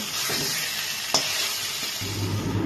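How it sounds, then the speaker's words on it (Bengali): Hot water is poured into a pan of fried, spiced potatoes, which sizzle loudly; after a couple of brief clatters the hiss swells sharply. "গরম জলটা এবার আমি এর মধ্যে দিয়ে দিচ্ছি।"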